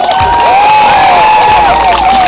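Loud, dense crowd cheering and shouting with whoops fills the whole stretch at an Izhevsk Dance Day hip-hop event, a steady roar of many voices near and continuous with no gaps.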